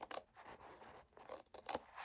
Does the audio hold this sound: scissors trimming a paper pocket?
yes